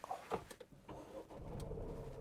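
A Dacia Jogger engine, push-button started, cranks briefly and catches, settling into a low, steady idle; fairly quiet and close.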